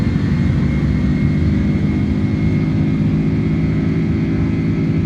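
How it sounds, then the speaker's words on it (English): iniBuilds A310 jet engines roar at takeoff power in Microsoft Flight Simulator, a loud, steady, deep rumble with a faint higher whine, continuous and unbroken with no voices. "Takeoff power is set."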